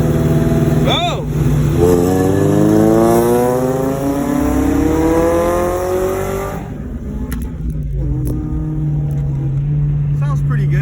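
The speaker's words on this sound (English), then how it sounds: "Sounds pretty good, better than how it was with the blown resonator and stock exhaust" A DA9 Honda Integra fitted with a new exhaust, replacing a blown resonator and stock system, accelerates hard through the gears: loud, close engine revs climbing and dropping with each shift, then settling to a steadier drone, with a voice briefly over it.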